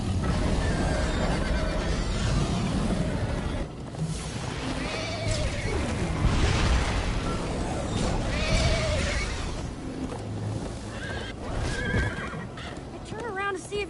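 Loud whinnies and galloping hoofbeats from a horse in the Minecraft Story Mode video game, pounding steadily and close for the whole stretch, with some bleat-like animal calls and game voices mixed in.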